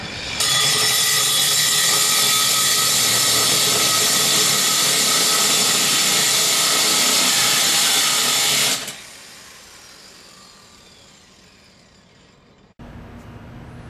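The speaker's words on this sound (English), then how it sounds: "Cutting this rib of the tile." A core drill grinds loudly and steadily through a roof tile for about eight seconds, a harsh whining roar that cuts off abruptly, leaving quiet background noise.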